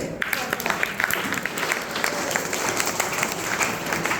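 A gathered audience applauds at a seminar, with sustained crowd clapping filling the whole stretch and scattered voices underneath.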